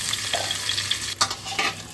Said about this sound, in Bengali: আলুটাকে কিন্তু একটু লাল করে ভাজতে হবে